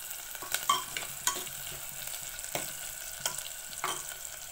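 Onion, green chili and garlic sauté in oil for dhal fry, a soft steady sizzle broken by a few sharp spatula scrapes and clinks against the pan, fairly quiet and without voices.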